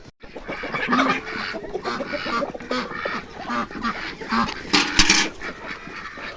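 Chickens in a coop squawk and cackle in agitation as they are caught for wing clipping, a dense overlapping flock chorus close by with flapping and a sharp louder burst near the end.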